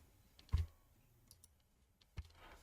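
Computer mouse clicks while working in Fusion 360, two distinct sharp clicks plus a few fainter taps in a quiet room.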